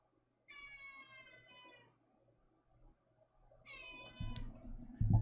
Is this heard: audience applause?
no